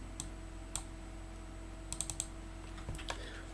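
Sparse keystrokes on a computer keyboard, a few isolated clicks and short clustered bursts, fairly quiet over a steady background hum with no one talking.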